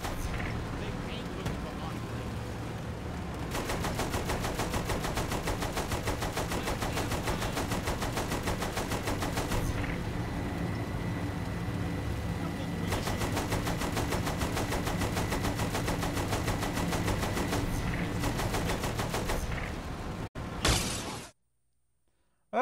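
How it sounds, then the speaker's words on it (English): Sustained machine gun fire in the video game Saints Row: The Third, a loud rapid continuous stream of shots with a brief pause midway, ending in a short burst before cutting out. "Use the machine gun then, not the cannon."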